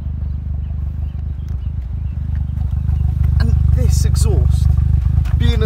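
Vauxhall Corsa VXR with a central exhaust, high mileage, idling with a deep, loud, steady low rumble, while people talk close by over the exhaust note.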